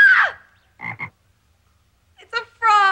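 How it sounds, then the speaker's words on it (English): A frog croaks in short, distinct bursts with a near, fairly loud harmonic call at the start and end, and a quiet gap between the calls. "It's a frog."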